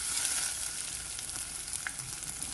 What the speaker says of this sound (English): the pot is very hot now, so I'm gonna put the salmon in